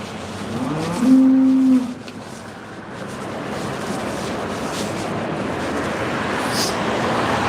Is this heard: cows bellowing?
yes